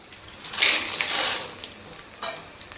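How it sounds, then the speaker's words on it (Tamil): Peanuts hit hot oil with sautéed onions for peanut chutney, a loud hissing sizzle swelling and fading over a couple of seconds, with a brief stir near the end. "இப்போ நம்ம வேர்க்கடலை போட்டுக்கலாம்"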